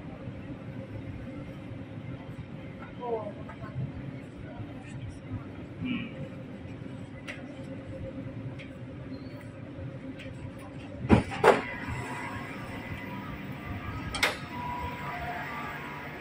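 A Qatar Metro train pulls into National Museum station, a steady low rumble running throughout, with a sharper clatter and hiss near the end as it stops and the doors open. Nobody speaks during it.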